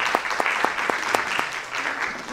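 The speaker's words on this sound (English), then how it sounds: "So a big round of applause." Applause from the audience at an annual meeting, steady clapping from a room of people with a few sharper claps standing out, continuous through the short stretch.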